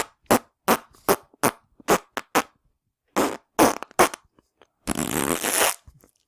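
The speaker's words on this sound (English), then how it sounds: "It's fart noises." A run of short, sharp fart noises, a dozen or so in irregular succession, ends in one longer, drawn-out raspy blast, loud and close with no talk over them.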